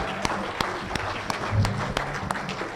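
A crowd at an auctioneers and ringmen championship applauds for a ringman contestant, with scattered distinct claps standing out over a softer bed of clapping, moderately loud and fairly close.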